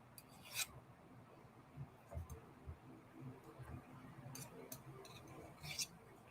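A hand file rasps back and forth across metal in repeated strokes, close and fairly quiet, with bright scraping bursts at irregular intervals.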